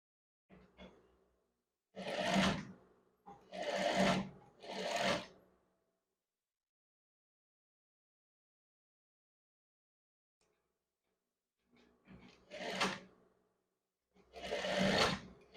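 A sewing machine joins the shoulder seam of a women's scrub top in short, separate bursts: three quick runs, a long silence, then two more, all close and fairly quiet.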